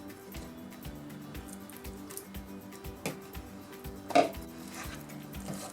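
A metal spoon folds cheese into muffin batter in a bowl, giving repeated soft scrapes and light clinks against the bowl in a steady rhythm, with one louder knock near the end.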